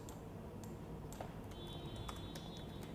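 Faint, scattered clicks of keys being pressed on a computer keyboard, light irregular taps over a quiet hiss with no voices.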